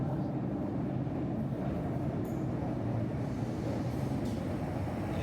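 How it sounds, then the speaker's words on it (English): An electric train running toward Glasgow Central low level, a steady rumbling roar heard from inside the carriage and holding level throughout with no talking. "Electric train back to Glasgow Central low level."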